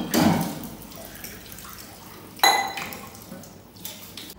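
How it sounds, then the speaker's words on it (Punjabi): Dishes are washed by hand under running water, with a soft splashing stream, a bright clink and clatter of a utensil midway, and a few faint knocks near the end. "ਭਾਂਡੇ ਮਾਂਜਾ ਹੁਣ"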